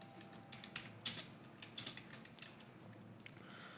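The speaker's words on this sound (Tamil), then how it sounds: "டைப் பண்ணிக்கிறேன்" Keys clatter on a computer keyboard in quick, uneven bursts of light clicks, close and fairly quiet over a faint steady background hiss, with no talking.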